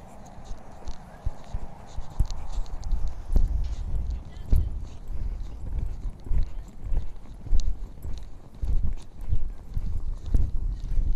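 Horse cantering around an arena, hooves thudding in a steady rhythmic three-beat pattern, moderately close, with a trainer's voice speaking over the footfalls.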